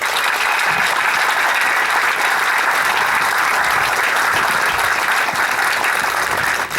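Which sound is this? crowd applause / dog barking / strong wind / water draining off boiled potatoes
crowd applause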